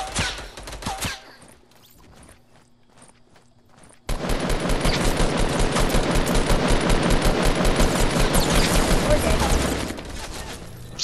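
Video game gunfire erupts in a loud, sustained rattle of rapid automatic shots lasting several seconds after a quieter opening stretch, with a few isolated shots early on.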